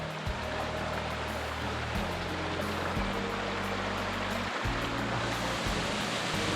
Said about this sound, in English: There they are, the waterfalls. The gorgeous little waterfalls.